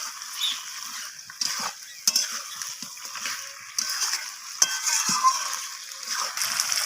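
Chicken gizzards and liver being stirred and sautéed in a pan with green chillies, giving a soft sizzle and intermittent scrapes and clinks of a spoon, fairly quiet and close.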